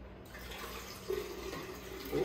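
Water poured into a container while making a Mauby drink, four cups' worth: a steady close liquid splashing and trickling with brighter surges near the end, no talk.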